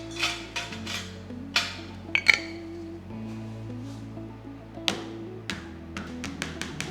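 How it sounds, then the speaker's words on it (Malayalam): A metal kinnathappam mould filled with batter is tapped on a surface to release air bubbles: scattered sharp clinks and taps, several quick ones in a row near the end, close and moderately loud over a low hum. "ഒന്ന് ടാപ്പ് ചെയ്യുക വല്ല എയർ ബബിൾസ് ഉണ്ടെങ്കിൽ പോകാനായിട്ട്."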